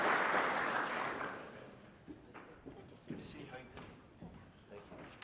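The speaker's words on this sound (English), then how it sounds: "Please give him a round of applause." An audience applauds Police Chief Paul Newdigate at the Top Cop Awards ceremony. The clapping starts full, fades out within about two seconds, and is followed by scattered footsteps and light knocks.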